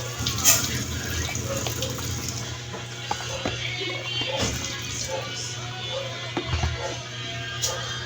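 Water is poured into a pot of rice being readied for cooking at home, a continuous close splashing stream with small clinks and knocks scattered through it and faint background voices.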